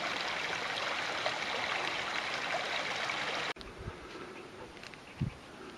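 A mountain brook flows above the Söse reservoir as a steady rushing, babbling stream close by. A few soft low thumps break through after a brief cut.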